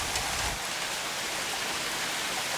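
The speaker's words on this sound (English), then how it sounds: "It's raining lightly now compared to what it was." Rain pours down outdoors as a steady, even hiss of falling water, continuous and moderately loud with no voices.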